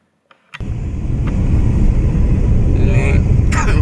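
A car engine runs during a stop for petrol. After a brief click and a thump, a loud, steady close rumble comes in and keeps going, with faint bright clinks above it near the end.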